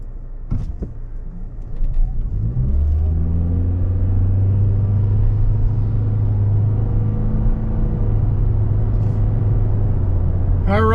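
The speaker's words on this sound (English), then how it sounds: "we're on the road in this 24 Corolla Cross hybrid Nightshade trim, all murdered out" A 2024 Toyota Corolla Cross Hybrid in Nightshade trim driving on the road. A loud, steady low engine and road rumble builds after a couple of seconds of door and cabin sounds, then continues evenly from inside the cabin.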